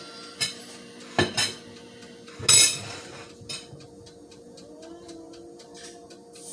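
Plates and dishes handled in a home kitchen: a few sharp clinks and clatters spaced across several seconds, close by with no voices.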